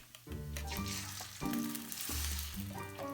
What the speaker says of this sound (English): Then lower the flame and add the egg into it.